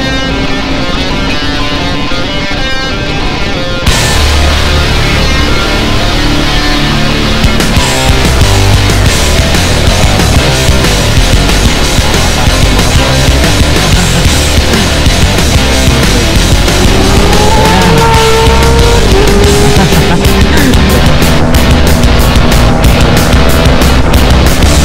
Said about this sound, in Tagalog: Grabe yung tunog ng Acropovic tsaka SC.